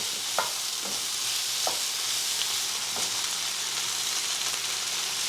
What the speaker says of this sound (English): Just a little stir. Starting to get some color on it.